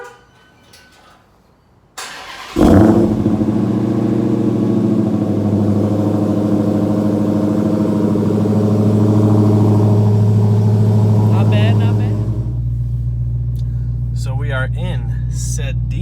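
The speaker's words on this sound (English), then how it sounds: "if you guys want to hear a cold start on a Demon," A Dodge Demon's engine cold-starts with a sharp crank and roar after a short quiet lead-in, then settles into a loud, steady, rumbling high idle that drops slightly near the end.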